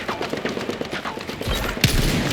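Gunfire in a battle-royale style video game, a rapid string of sharp shots rattling off in a burst, dense and fairly loud, followed by a heavier blast near the end.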